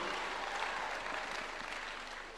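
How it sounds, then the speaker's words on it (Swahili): An audience applauds the President at a church gathering at State House in Kenya, a brief, fairly faint wash of steady clapping with no voices. "Tumpigie Rais makofi mazuri."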